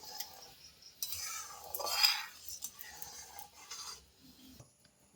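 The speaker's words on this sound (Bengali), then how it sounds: "চিনিটাকে খুব ভালোভাবে মিশিয়ে নিচ্ছি চিনিটাকে ভালোভাবে এটাকে নাড়িয়ে রাখতে হবে" Sugar is stirred into guava jelly in a pot, giving a soft, quiet scraping and rubbing of a spoon that swells for a few seconds and then fades.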